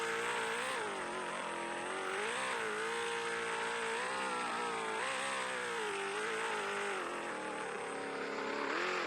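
A car in a video game drives continuously, its engine note rising and falling as it revs through gears, steady and fairly loud with no talking.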